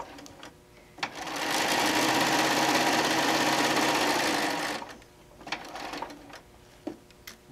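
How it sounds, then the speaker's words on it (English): A sewing machine stitching a seam in fabric for a camper-panel cover runs in one continuous whirring burst of about four seconds, with softer clicks and handling noises before and after. "We're gonna sew, remember, half inch seam allowance."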